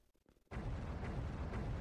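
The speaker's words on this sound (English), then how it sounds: "Let's fire the spotting round." An artillery spotting round goes off in the tactical war game Lock and Load Tactical, a sudden loud explosive boom after a brief quiet lead-in, rumbling on as a sustained blast.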